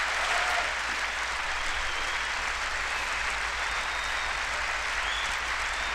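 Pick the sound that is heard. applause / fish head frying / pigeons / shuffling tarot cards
applause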